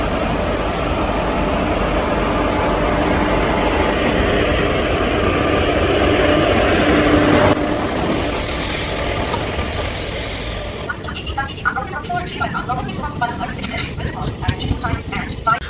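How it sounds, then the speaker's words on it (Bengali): A train arriving at Nabadwip Dham rumbles loudly and steadily, then quietens partway through into a lighter rattling clatter. "যে ট্রেনে করে আমরা নবদ্বীপ ধাম এসে পৌঁছালাম। এই যে ট্রেন,"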